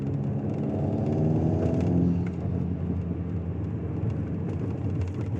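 A steady, sustained engine drone from an Alpine A110 S with a stage 2 tune running in sport mode, a full rumbling tone heard continuously without speech.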